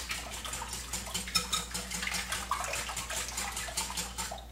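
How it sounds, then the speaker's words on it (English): Crepe batter made with milk is whisked in a bowl, giving quick rhythmic scraping and sloshing taps that repeat steadily at close range and moderate volume. "And just kind of whisk that together."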